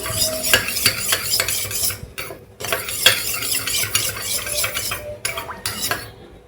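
Dosa batter thinned with a little water is stirred briskly in a bowl, with repeated close scraping and clinking of a spoon against the sides and a couple of brief pauses.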